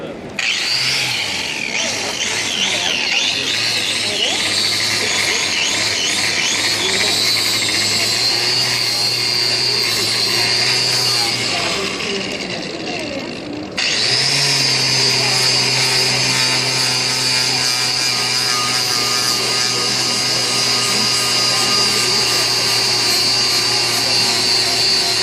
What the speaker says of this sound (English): I'm going to take this drill grinder, hopefully I won't cut the power off